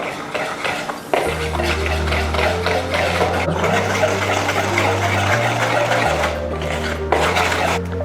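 Dry cake ingredients, all-purpose flour and cocoa powder, being mixed in a bowl for pistachio petit gateaux, a steady scraping and clinking beneath a continuous mechanical hum, close and without speech.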